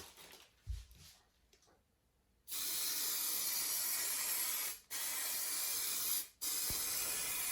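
Lacquer spray paint hissing onto a car bumper in three steady bursts, each stopping abruptly, after a quieter stretch with a brief clatter.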